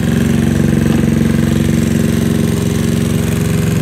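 A GY6 scooter engine idles steadily and close by, with an even low putter that holds constant throughout with no other sounds.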